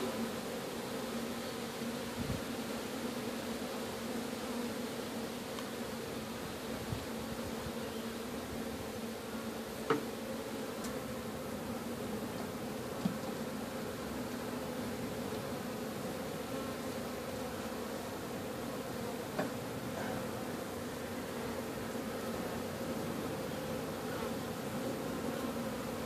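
Honeybees drone in a continuous, steady buzz during a hive cut-out in Lake Wales, Florida. The buzzing is fairly quiet but constant, with a few faint knocks and no voices.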